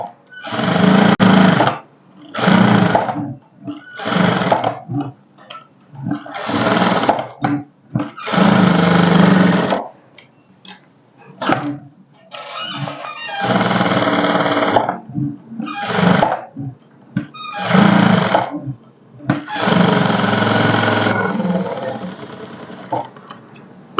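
A sewing machine stitches a high-neck blouse in repeated whirring bursts of a second or two, separated by short pauses, close and fairly loud, with occasional softer mechanical clicks between runs.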